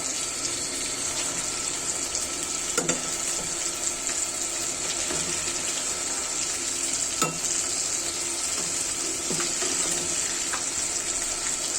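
Rohu fish frying in oil makes a steady, close sizzle throughout, with occasional sharp crackles and faint clicks of a utensil.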